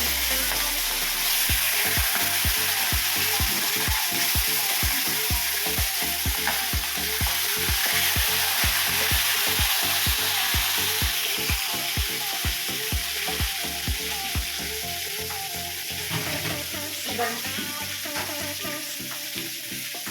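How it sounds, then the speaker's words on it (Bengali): Prawns and a fish head frying in a pan of oil, a loud, continuous close sizzle with rapid rhythmic stirring or spatula knocks running through most of it, easing slightly toward the end, with no talking. "এবার চিংড়ি মাছটাকে আমি ভাজবো।"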